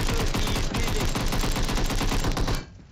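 Sustained automatic gunfire in a PUBG esports scrim match, a dense, loud rapid stream of shots that cuts off abruptly near the end.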